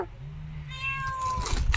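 A house cat meows in a drawn-out, rising and falling call near the microphone, one sustained cry over quiet household background without talk.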